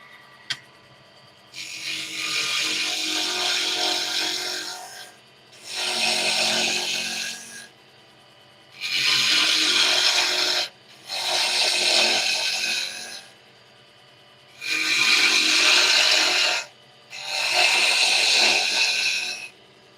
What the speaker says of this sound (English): turning wood on a wood lathe is so satisfying